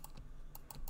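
Quick computer clicks sound during photo editing: a handful of sharp, light taps in two small bursts, close and fairly quiet, with no talking.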